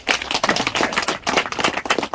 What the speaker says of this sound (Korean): 자 우리 김병호 형님한테 박수를